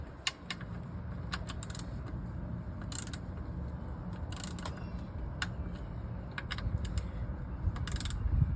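A ratchet tightens bolts on the transmission of a Toyota Tundra, quick bursts of metallic clicking repeated several times over a low steady rumble, close by, with no talking.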